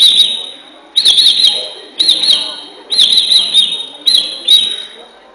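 A mimicry artist imitates a sparrow, giving five bursts of high, bright chirps spaced about a second apart, close and loud with brief gaps between.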